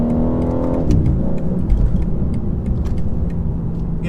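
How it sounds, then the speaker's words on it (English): A 2023 BMW M4 Competition xDrive pulls hard under acceleration, its engine note rising and then dropping sharply at a quick gear change before climbing again, loud and close from inside the car with no talking. "There is no other car that has this gearbox that shifts like that."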